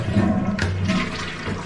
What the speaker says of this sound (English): Then we're gonna give it a test flush.